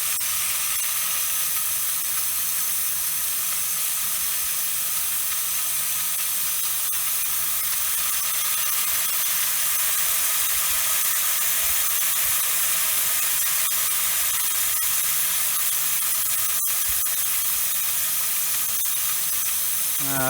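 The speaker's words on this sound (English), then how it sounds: "I think it's starting to steam." A steam boiler, an hour into firing and just starting to steam, gives a steady broadband hiss with faint mechanical ticking and clicks over a constant background, with no voices.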